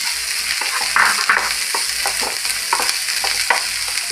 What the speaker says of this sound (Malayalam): രണ്ട് 3 പച്ചമുളക് ചെറുതായി അരിഞ്ഞത് ഇടാം.